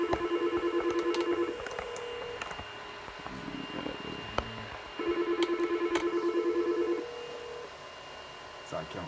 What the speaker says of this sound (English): as you can see here on the T54, it is ringing